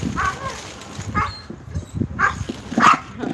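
Police K9 dog lined up before a bite demonstration, giving a few sharp barks and yips at irregular intervals, mixed with low background talk.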